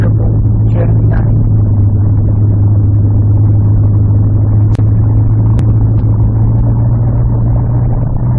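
Classic car with a V8 heard from inside while cruising, a steady low engine rumble and road drone throughout, with a couple of faint clicks over the top and no talking.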